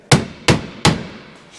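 Three hard blows struck against the sliding door of a VW T4 van, evenly spaced, loud and close, each a sharp metallic bang with a short ringing decay.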